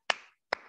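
Two crisp, close hand claps about half a second apart, each a sharp slap with a short ringing tail in a quiet room, with no talking.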